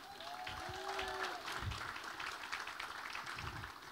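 Audience clapping for sponsors at an economic forecast event for a county realtors association, a continuous moderate wash of applause with a few faint whistles and cheers mixed in.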